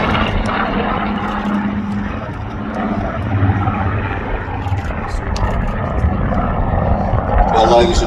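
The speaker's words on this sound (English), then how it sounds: "So put your hands together for the Rolls Royce Heritage Flight and the Mark 19 Spitfire." A Rolls-Royce powered Spitfire Mark 19 passes overhead at an air festival display, its engine a continuous broad roar heard from a distance, with a public-address announcer speaking over it throughout.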